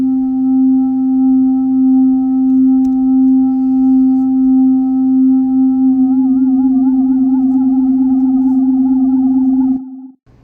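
Logic Pro Tape Delay modulation on a steady synthetic tone, with an LFO making the pitch of the upper tones wobble up and down in the second half. The sound is loud and sustained with no talking, then cuts off abruptly at the end.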